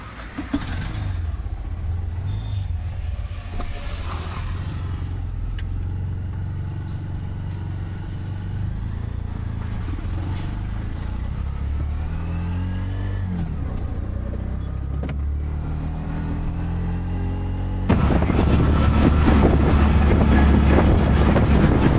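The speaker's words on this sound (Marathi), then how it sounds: "बाबा रिक्षा चालवत आहेत." An auto rickshaw driven along a road on a Konkan trip, steady engine drone with wind buffeting the microphone, growing louder and rougher near the end.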